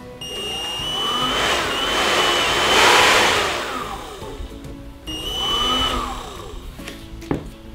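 A Xenon CDBL1845 18V cordless hand blower is test-run while partly disassembled, without its cover: a loud, close whirring motor that rises to a peak, eases down, then spins up again before cutting off.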